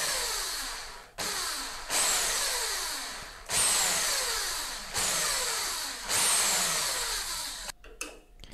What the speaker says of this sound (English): I'm gonna use the drill right